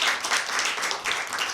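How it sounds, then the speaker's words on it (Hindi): Children applauding together at a Christmas special programme, a brief burst of dense, bright clapping filling the space at close range. "तो बच्चों, हम सब मिलकर ऑल्विन के लिए भरपूर तालियां बजाते हैं।"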